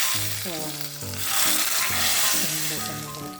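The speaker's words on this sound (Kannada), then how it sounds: "ಈಗ ನೋಡಿ ಹಾಕ್ತಾ ಇದ್ದೀನಿ ಒಗ್ಗರಣೆ" Mustard seeds, cumin, garlic and a dry chilli tempered in hot oil and poured into drumstick-leaf dal, giving a loud, bright, crackling sizzle that swells and holds throughout, with a tonal whine beneath it.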